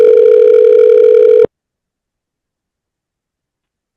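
A steady telephone tone sounds for about a second and a half on an outgoing call, then cuts to silence, with a brief burst of sound returning at the very end.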